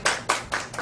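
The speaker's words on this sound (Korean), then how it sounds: "하나님 앞에 영광의 박수를 드리겠습니다" A church congregation claps during a Sunday worship service, four separate loud bursts of applause in quick succession, with no talking.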